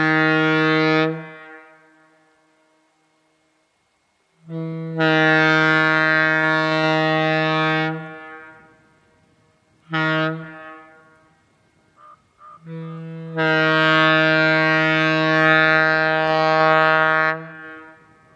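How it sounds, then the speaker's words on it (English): A 1954 Leslie A-200 air horn from the Milwaukee Road, once fitted to a Fairbanks-Morse H16-44 diesel locomotive, sounds four loud, chord-rich blasts: a short one, a long one, a brief toot, then a long final blast, with no talk. "this is the first confirmed ex-Milwaukee Road horn that I've ever owned"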